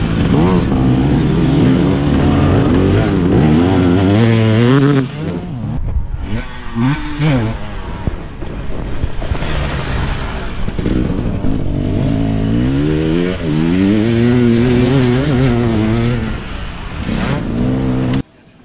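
Motocross motorcycles racing on a dusty track at an amateur cup event in Drmoul, loud engines revving and rising close by for a long stretch, briefly dipping midway, with some talk underneath.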